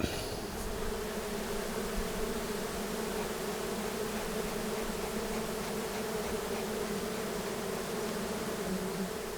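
Honeybees swarm around a hive that is being taken apart, making a thick, continuous buzzing drone. The buzzing is close and steady for the whole stretch, with no talking.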